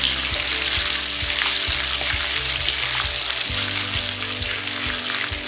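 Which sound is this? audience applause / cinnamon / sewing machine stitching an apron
cinnamon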